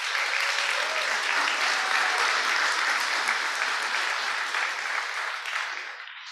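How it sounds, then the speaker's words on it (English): A round of applause from an audience at a university global health day event, a dense, even wash of clapping that holds steady throughout and tapers slightly at the very end. "A round of applause to Santa Cruz,"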